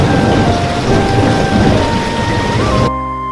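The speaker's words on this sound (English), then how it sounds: "I was caught in the rain on my way and was forced to take refuge in a shelter." Heavy rain pours down in a dense, roaring hiss with low thunder rumbling beneath, loud and close from a roadside shelter on a cycling journey in West Africa, before cutting off abruptly into a quiet tone.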